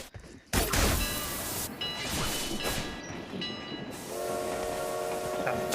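A train in BGMI (Battlegrounds Mobile India) rumbles and clatters loudly along rails after a sharp start, with tonal horn or whistle notes sounding over the steady rolling noise throughout.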